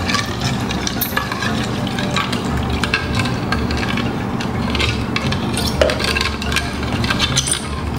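A spoon scrapes and stirs through a tofu and mushroom sauce of soy sauce, sugar, mushroom stock, sesame oil and water in a pan, a steady close clatter with light clinks, and no voices.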